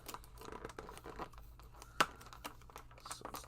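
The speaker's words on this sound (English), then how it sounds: "Take out the second tape." Tape peeled away from action figure packaging to free the weapon: soft close crinkling and rustling of plastic, with one sharp tearing rip partway through.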